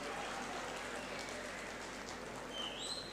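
Applause from an audience at an opening ceremony of a literature festival in Quetta, welcoming a guest to the stage; dense, steady clapping fills the room, continuous and moderately distant.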